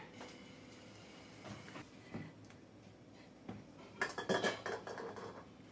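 A spoon stirs thickening vanilla custard in a pan, with quiet intermittent scrapes and clinks against the metal, a louder burst of clattering near the end, all faint and close with no talk.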